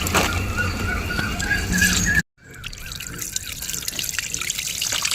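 Fermented rice water poured from a container onto a potted plant, a steady trickling and patter of liquid close by, with a brief silent gap midway before the splashing resumes.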